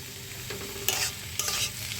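Watermelon rind curry is stirred in a sizzling pan: a couple of scraping spatula strokes cut through a soft, continuous frying hiss, with no voices.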